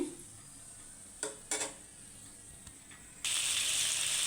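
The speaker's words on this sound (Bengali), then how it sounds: "আমি কতগুলো শুকনো মরিচ তেলে নিচ্ছি।" Dried red chillies dropped into hot oil, a couple of sharp sizzling bursts early on, then near silence before a loud, steady frying hiss takes over near the end.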